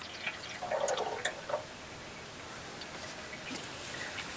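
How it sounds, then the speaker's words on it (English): Engine oil draining from a car during an oil change, a thin liquid trickle and dripping close by, with a brief louder splashing burst early on before settling into a faint steady run. "I'll kind of hold it here for a minute to let it drain all the way out"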